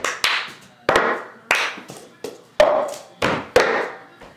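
A cup song rhythm played on a table: hand claps, taps on a cup and the cup being grabbed and knocked down, forming a steady repeating pattern of sharp, close percussive hits with no talking.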